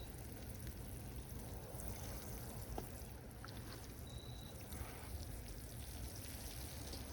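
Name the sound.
water draining through a colander of bonsai soil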